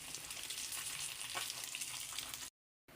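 Bangus, tilapia and bighead fish fry in hot oil with a steady, dense crackling sizzle that is close and constant, then cut off briefly near the end, with no voices.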